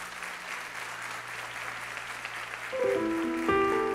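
Church congregation breaking into broad applause, a steady wash of clapping from many hands that swells louder toward the end, with faint musical tones entering underneath.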